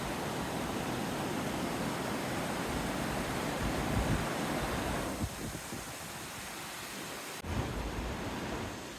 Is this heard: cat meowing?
no